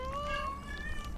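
A cat gives one long, drawn-out meow with a rising then steady tone. It is moderately close and sits over a constant low background rumble.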